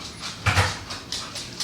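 A dog whimpers and whines in short, breathy, strained cries, close and fairly loud, repeating in a few bursts over a low indoor background without talk.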